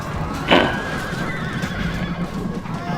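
A horse whinnies sharply in a Rome: Total War battle, one loud close neigh standing out over a continuous din of fighting, shouts and hoofbeats.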